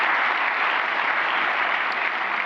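A crowd claps steadily at a Washington DC government development announcement, congratulating the Deputy Mayor's office with dense, even applause that runs loud and unbroken throughout.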